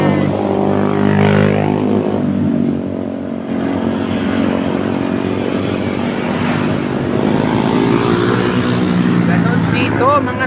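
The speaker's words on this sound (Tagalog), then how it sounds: "Ganon dito sa daanan ng Marilaki, maraming motor." Several motorcycles pass along a busy roadway in the Philippines, their engines droning loudly and rising and fading as they go by, with people talking nearby over the traffic.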